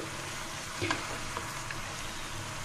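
Snake gourd curry being stirred in a pan, a low steady sizzle with a couple of faint scrapes from the spoon, quiet and close with no voices.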